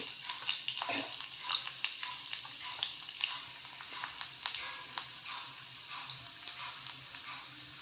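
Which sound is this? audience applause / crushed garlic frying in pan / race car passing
crushed garlic frying in pan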